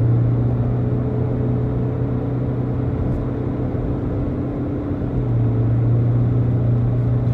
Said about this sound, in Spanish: El coche va cogiendo velocidad, pero sin que haya saltos entre marchas, es como una scooter.